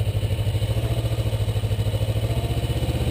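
Kawasaki Ninja motorcycle engine running steadily at low RPM with a throbbing, even pulse, close and continuous throughout, no voices.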